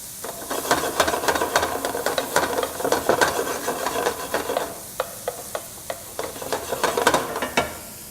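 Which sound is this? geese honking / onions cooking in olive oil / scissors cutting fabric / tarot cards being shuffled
onions cooking in olive oil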